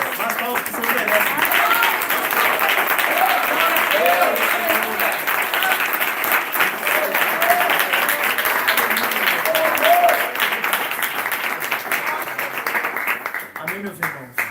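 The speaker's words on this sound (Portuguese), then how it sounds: "Mas palmas que o Senhor merece." A church congregation applauds in a sustained, dense wash of clapping that runs for many seconds, with a voice speaking over it.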